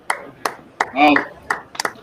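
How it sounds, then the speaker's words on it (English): A handful of sparse, slow golf claps tap out at uneven intervals, with a short spoken exclamation in the middle. "it's a bad golf clap"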